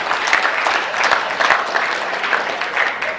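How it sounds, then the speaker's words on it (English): An audience at an economics lecture breaks into sustained applause, dense and even clapping that fills the room at close range with no speech over it. "I suspect most of the people doing the applauding are British."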